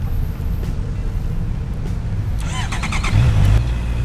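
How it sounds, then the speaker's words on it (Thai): A Honda CB650R motorcycle with its stock exhaust idles with a steady, low, quiet rumble, then gives a brief throttle blip near the end. "เดี๋ยวสตาร์ทให้ฟังเสียงเลยดีกว่าคันนี้สภาพสมบูรณ์มากนะครับผม"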